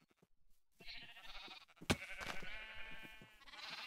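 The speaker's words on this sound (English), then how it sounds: "But we have all of our sheep, and some of them are apparently trying to escape." Sheep bleating in the Minecraft video game: several drawn-out, nasal digital bleats, one after another and sometimes overlapping, faint and alone after a brief click.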